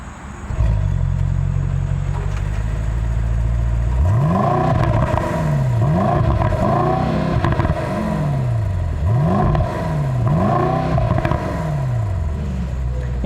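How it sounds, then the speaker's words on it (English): The V8 engine of a 2021 Mercedes-AMG GLE 63 S SUV starts with a cranking whir, then settles into a rumbling idle and is revved repeatedly in rising and falling bursts against a soft limiter, close up. "All right, Rob, fire up that big boy V8 and let's hear how it sounds"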